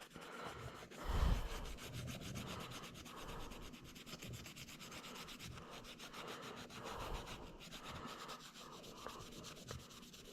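Scotch-Brite pad scrubbing the head gasket surface of a 2004 Honda TRX400EX quad engine, a steady, close, rhythmic abrasive rubbing at low volume.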